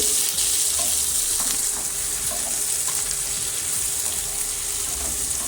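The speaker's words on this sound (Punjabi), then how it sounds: "ਸਬਜ਼ੀ ਪਾ ਕੇ ਇਹਨਾਂ ਨੂੰ ਭੁੰਨ ਲਵਾਂਗੇ" Mixed vegetables frying in a pan for a vegetable kadhi give off a steady, loud sizzle with faint stirring scrapes, close by and with no talking.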